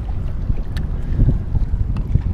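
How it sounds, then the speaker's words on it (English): Gusty wind buffets the microphone over low rumbling and sloshing water on rough sea while kayak fishing, a continuous rough, blustery background. "It's been windy in the morning."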